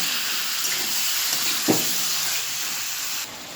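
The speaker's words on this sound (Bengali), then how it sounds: "এবারে চাপা দিয়ে মিডিয়াম হিটে কিছুক্ষণ ভাজতে দেব" Chicken pieces and onion frying in a covered pan over medium heat, giving a steady close hiss and sizzle with a brief louder burst partway through before the sound drops slightly near the end.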